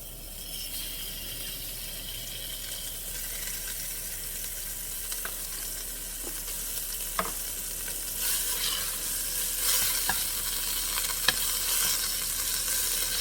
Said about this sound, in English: Now I'm going to put in chorizo, a whole tube of chorizo.